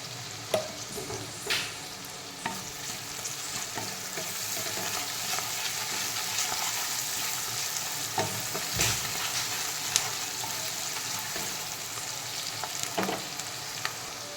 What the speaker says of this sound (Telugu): ఒక 2 మినిట్స్ అట్లా ఆనియన్స్ వేగిపోయినాయి.